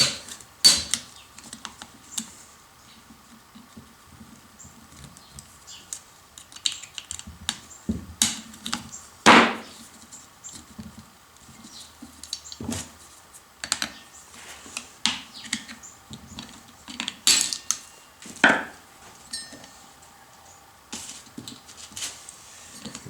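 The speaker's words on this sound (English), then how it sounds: "So I also have to use a screwdriver." Snap ring pliers and a screwdriver work a snap ring off the axle of a Husqvarna riding lawnmower's Tuff Torq K46 transaxle, giving sharp scattered metallic clicks and taps with a few louder snaps amid soft shuffling handling noise.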